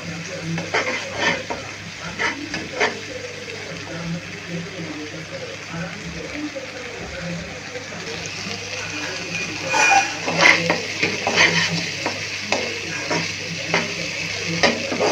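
Spice paste for Tular Dandi fish bhuna sizzles steadily in a pan while a utensil scrapes and stirs it, with occasional clinks and a voice talking over the cooking.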